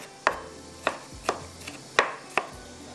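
Vegetables being chopped on a cutting board in a home kitchen while making green masala drumstick kebabs: five or six sharp, evenly spaced knife strikes, close and fairly loud, with no talking.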